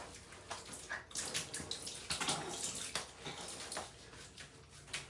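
Water splashes and trickles over a cat being rinsed of soap in a bath, an uneven run of pours and drips, close and fairly quiet, with no talking.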